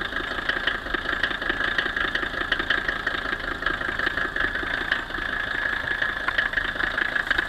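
A 1977 Mercedes 300D non-turbo diesel idles just after starting, a steady, close, loud clatter with an even knocking rhythm that holds throughout with no voices.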